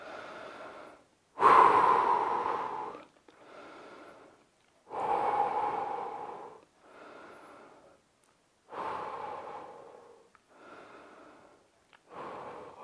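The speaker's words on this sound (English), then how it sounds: "Let's breathe." Heavy, deep breaths during a short rest in a home fat-loss workout, each long noisy inhale or exhale separated by brief silences, close and fairly loud with no talking.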